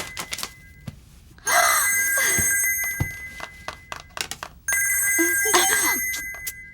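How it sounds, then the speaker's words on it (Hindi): A telephone rings in two bursts separated by a pause, bright and nearby, with soft clicks and rustles in between. "मैं उसका फोन ही नहीं उठाऊंगी।"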